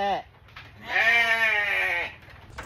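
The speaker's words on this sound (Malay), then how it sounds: "Inilah haiwan inilah, kibas inilah." A fat-tailed sheep (kibas) gives one long, wavering bleat close by, preceded by a brief sharper cry, outdoors with faint background noise.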